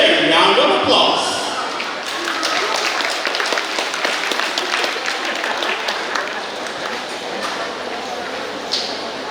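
Graduation audience at a high school ceremony clapping in a steady, dense wash of applause that fills the room for the whole stretch, with faint voices mixed in.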